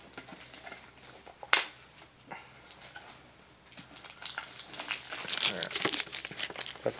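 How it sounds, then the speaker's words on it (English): Plastic wrap being cut and peeled off a Pokémon card tin, heard as close crinkling and tearing that builds into busier, louder rustling, with a sharp snap early on and a dog faintly audible. "Cut the plastic off."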